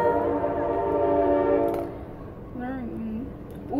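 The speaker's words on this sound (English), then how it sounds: "Sorry about the train." A train rumbles past nearby with a steady low drone and a sounding horn, fading partway through as a faint voice is heard.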